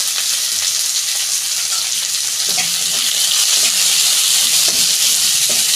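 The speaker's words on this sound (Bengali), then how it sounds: "পেঁয়াজগুলো একটু লাল লাল করে ভেজে নেবো" Chopped onions with slit green chillies fry in a pan, making a loud, steady, close hiss of sizzling oil that runs throughout, with a few faint stirring scrapes and no talking.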